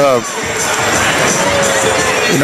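Packed high school basketball gym crowd cheering loudly in a Bradley Central versus Walker Valley game, a dense roar of shouts and young voices swelling close and continuous.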